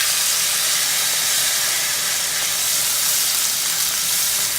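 Onions and mixed vegetables fry in a hot pan on the stove, giving a loud, steady sizzle and hiss that fills the whole stretch without letup.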